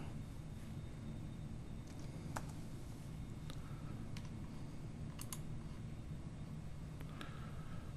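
Clicks and key taps on a computer keyboard and mouse while PLC software is configured, scattered sharp ticks at irregular intervals over a steady low background hum, fairly quiet and close.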